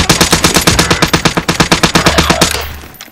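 Rapid automatic gunfire in a team shooter video game rattles out in a loud, steady burst of dozens of evenly spaced shots before fading at the end.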